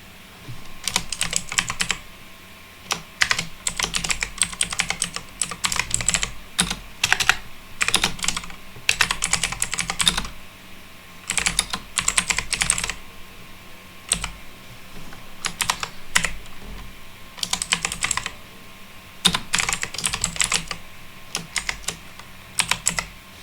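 Rapid bursts of keystrokes on a computer keyboard as code is typed for a Firebase Firestore blog page, clattering in irregular clusters separated by short pauses, close and fairly quiet with no talking.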